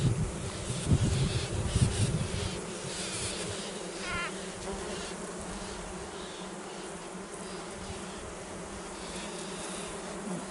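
Yellow-backed bees buzz steadily inside an open Spanish Layens hive in natural comb, a close, continuous drone with some rustling handling noise at the start.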